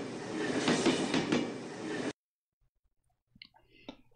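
A Lego Powered Up toy train plays its starting sound, a steady rail-like rumble with clicking for about two seconds that then cuts off abruptly, followed by faint small clicks and noises.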